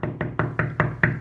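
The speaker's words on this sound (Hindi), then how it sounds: "इतने में एक बार फिर हानी चिड़िया का दरवाज़ा खटकता है।" Six evenly spaced knocks on a door, firm and close, landing about every fifth of a second with nothing else in the background.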